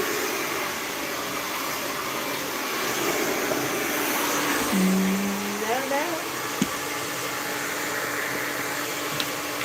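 A Silver Bullet blow dryer with a pick attachment roars steadily and loudly through the whole stretch while drying a client's hair in a salon, with a person speaking briefly over the airflow.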